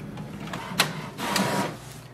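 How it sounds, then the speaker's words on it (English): An HP Smart Tank 5105 inkjet printer printing a page: a mechanical whir with a sharp click near the start, then a steadier, louder feed noise, close by and with no voices. "press the information button once to print the password"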